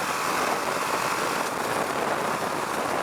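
A Husqvarna Vitpilen 701 motorcycle engine runs steadily while riding in fifth gear, a loud, constant drone mixed with broadband wind rush and no pauses, with no voices.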